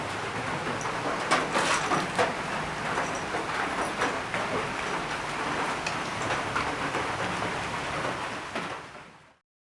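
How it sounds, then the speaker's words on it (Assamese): Steady rain falls outdoors, a dense, even hiss of drops with scattered louder patters, before cutting off abruptly at the end. "বৰষুণ দি আছে"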